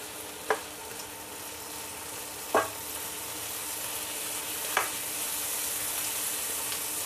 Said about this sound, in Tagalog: Haluin lang natin hanggang sa maluto ang kamatis.